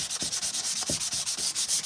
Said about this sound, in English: we've got a whole lot of sanding that we're doing